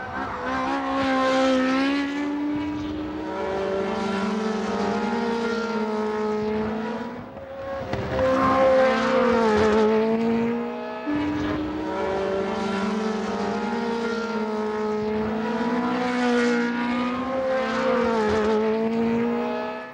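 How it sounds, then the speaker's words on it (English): Racing car engines from the 1978 season whine at high pitch, rising and falling through gear changes as cars pass in sequence on a wet track in heavy rain, loud and continuous. "Listen to the engine notes to see how carefully they're taking it."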